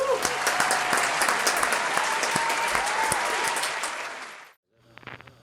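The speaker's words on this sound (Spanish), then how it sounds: "Un aplauso, por favor." An audience gives sustained, dense applause that fills the room loudly and evenly, then cuts off abruptly, leaving a brief softer patter of a few claps.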